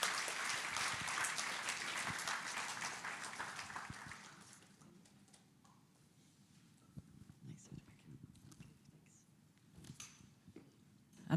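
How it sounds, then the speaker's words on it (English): Applause from an audience at a multiple sclerosis information event in Donegal, Ireland fills the first few seconds, then fades out into a quiet room with faint shuffling. "a round of applause for Dr. Kevin Murphy."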